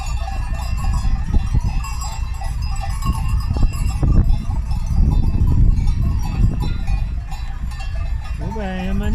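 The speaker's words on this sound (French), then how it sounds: "la manifestation de moutons, elle est devant la voiture" A flock of sheep mills about with bleats, clanking bells and shuffling hooves, loud and close, with a higher bleat near the end.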